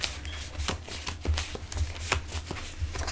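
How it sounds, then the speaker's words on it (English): Tarot cards are shuffled by hand, close up, in a quick irregular run of riffling slaps and soft thumps that lasts about three seconds. No voice is heard over it. "Let me just shuffle these a few more times."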